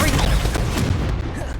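A Confringo blasting spell explodes in the wizarding video game Hogwarts Legacy, played on Xbox Series S: a dense, booming burst with rumbling low end filling the short moment, loud and close, mixed with game sounds.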